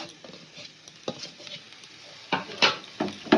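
Fried potatoes with chopped coriander get stirred in a pan: a soft frying hiss under intermittent scraping strokes and light clatters, growing louder toward the end.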